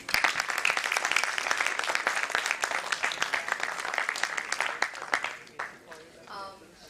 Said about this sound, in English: we'd just like to welcome our guests with a huge round of applause